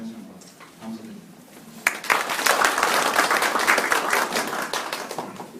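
A seated audience at a Korean startup forum breaks into applause for a professor. After quiet murmuring and a voice at the start, a sudden burst of many clapping hands rises sharply and holds steady and loud to the end.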